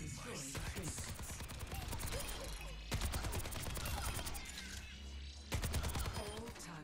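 Soldier 76's rapid gunfire with tactical visor active in the video game Overwatch 2 training mode: dense, loud bursts of automatic shots in three long volleys, with game effects layered over the firing.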